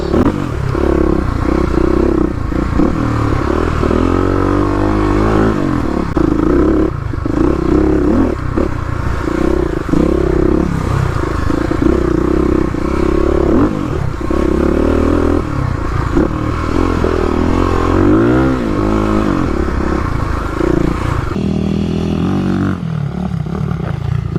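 A modified 250 dirt bike runs fast across sand dune whoops, its engine loud and close throughout, revving and surging with clattering and scraping over the bumps.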